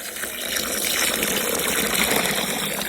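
Running tap water pours steadily into a sink while chicken parts are washed in it, a continuous close gushing and splashing with no talk.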